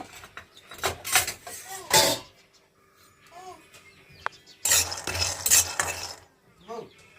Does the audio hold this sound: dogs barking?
no